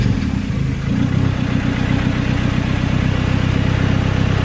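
Turbocharged B18C1 engine in a Honda CR-V with a custom welded exhaust, idling close and loud with a steady, slightly lumpy pulsing rumble and light clatter, no talk.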